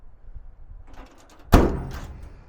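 The flip-out door on a Knapheide service body, a metal compartment door with stainless steel hinges on a 2020 Ram 5500, gives a soft rattle and then a single solid thunk as it swings open, heard up close.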